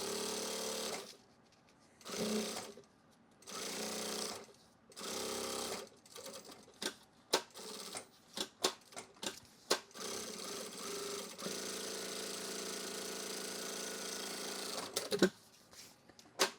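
A sewing machine bastes two layers of bright orange duffle bag fabric together in a run of short stitching bursts separated by pauses, then a longer steady whir, close and alone with no talking.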